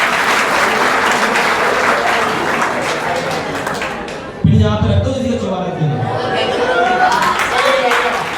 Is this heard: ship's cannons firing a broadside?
no